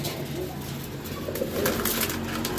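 Racing pigeons being readied for a training toss, giving soft, low cooing over light background noise in a short stretch.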